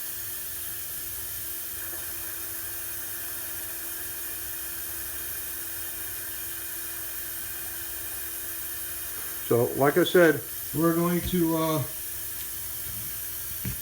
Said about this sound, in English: I'm going to fill this water jug up, this 1 gallon milk jug